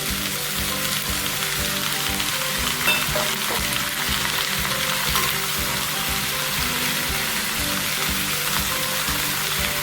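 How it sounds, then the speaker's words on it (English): Chilies and tomato sauté in a pan for a spicy chili chutney, a dense, steady sizzle that crackles continuously up close with no talking. "So I'm just going to saute all of this for a bit."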